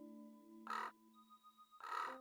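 Two short, harsh crow-like caws ring out in the game Soul Reaver 2, separated by about a second, over a quiet humming ambient drone.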